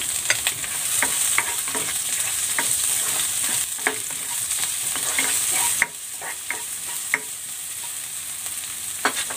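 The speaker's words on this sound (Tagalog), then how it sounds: "Igigisa ko na tong bawang. At ang sibuyas." Garlic and onion sautéing in cooking oil in a pan, a steady close sizzle with intermittent stirring clicks and scrapes throughout, dropping slightly in level partway through.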